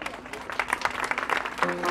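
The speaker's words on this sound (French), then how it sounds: "Merci beaucoup d'applaudir Shefa" Applause from an audience at a fashion week show in Saint-Louis, a brief burst of clapping with a voice and some music-like tones mixed in.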